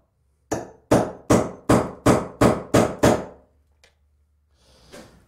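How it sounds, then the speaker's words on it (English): Hammer strikes on a nail punch setting nails below the surface of timber framing during a repair, eight sharp evenly spaced blows close up, then a single faint tap and a soft rustle after a pause. "I want to punch these nails below the surface of the timber so they don't damage the blade"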